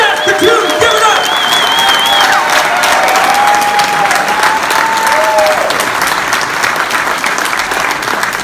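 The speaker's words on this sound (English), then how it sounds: "give him a big round of applause" A live crowd in Saskatoon applauds and cheers for a wrestling interview event, loud continuous clapping throughout with a whistle rising and falling over the noise.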